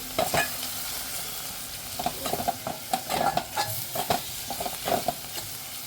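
Chilli masala, turmeric and salt stirred in a hot oiled pan for a Bombay duck and potato dish, with irregular clinks and scrapes of a spoon over a low continuous sizzle.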